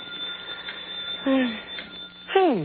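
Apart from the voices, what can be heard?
telephone ringing in a radio drama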